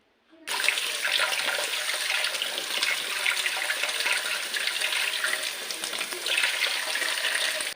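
Cauliflower is rinsed under a running kitchen tap. Water gushes steadily and splashes close by, loud and unbroken, with no talking.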